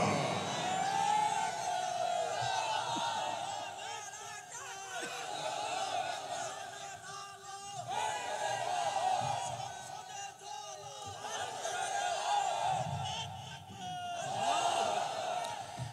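A large crowd at a Muslim religious rally in Bangladesh raises a loud, sustained roar of shouted slogans, the voices swelling and dipping in waves across the whole stretch.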